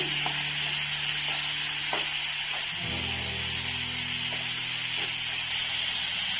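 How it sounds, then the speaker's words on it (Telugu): Curry leaves and green chillies frying in oil with tomato puree for an egg masala curry, a dense steady sizzle with light stirring ticks, close and constant, no talking. "కొంచెం కొంచెంగా వేయించుకుంటున్నప్పుడే కరివేపాకు, పచ్చిమిర్చి అనేవి వేసుకోవాలండి"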